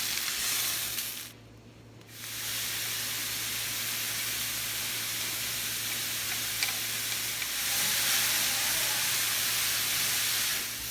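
A pound of sliced cremini mushrooms, a small onion and two garlic cloves sizzle steadily in a hot pan just emptied of chicken. The close, continuous hiss dips briefly near the start, then stays strong with no talking.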